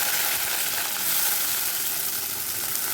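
Chopped onion sizzles steadily in hot oil in a pan as a Tamil fish curry tempering is cooked. The frying hiss is loud, even and continuous, with no voices.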